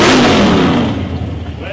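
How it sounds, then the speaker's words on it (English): A drag racing car at a street drag event blasts out a loud, harsh engine roar up close, fading slightly over about two seconds. "Loud car."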